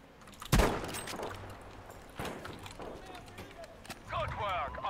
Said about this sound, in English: I'm trying to figure out where the fuck they shooting from.